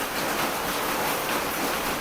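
Steady rain falling outdoors, a dense, continuous broadband hiss that stays even and fairly loud throughout, with no voices.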